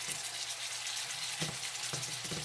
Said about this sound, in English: look like our gravy coming to a boil